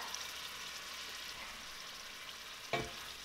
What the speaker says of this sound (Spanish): Revolvemos de nuevo.